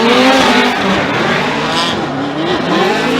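Formula Drift cars at Palm Beach, including a Scion tC, slide sideways through a sweeping turn toward the finish, loud engines roaring continuously with tires squealing and skidding close by.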